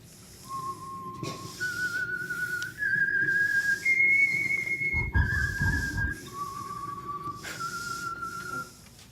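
A whistled theme melody for the Signal Oil radio program The Whistler: a clear, loud sequence of sustained notes stepping up and down in pitch, heard alone with no talk.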